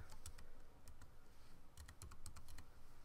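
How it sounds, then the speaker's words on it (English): Close keystrokes on a computer keyboard as a wifi password is entered during a Raspberry Pi setup, light taps in small irregular clusters over a faint steady background. "It's going to ask you for your password, which I'm going to type in here."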